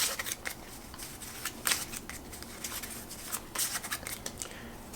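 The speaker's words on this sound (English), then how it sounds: "I shuffle the Automa deck." Cards of the Automa deck being shuffled during a Wingspan board game, a run of quick papery riffles and brushing bursts at close range with no talk.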